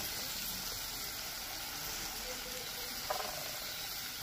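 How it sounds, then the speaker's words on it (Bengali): Turmeric and chopped tomato fry in a pan, giving a faint, steady sizzling hiss with one brief clatter of utensils partway through. "আর এই সময় দিয়ে দেবো একটা টমেটো কেটে রেখেছি, ওই টমেটোটা একসাথে কষাবো।"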